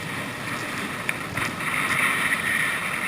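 Headwind buffets steadily outdoors while rowing on a river in Zambia, a constant broadband rush with faint water sounds and a few brief knocks, no voices.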